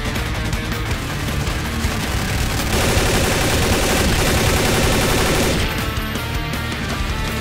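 Sustained heavy gunfire from the Half-Life 2 video game, a dense, loud barrage of rapid automatic shots that swells in the middle and keeps going without a break, with no speech.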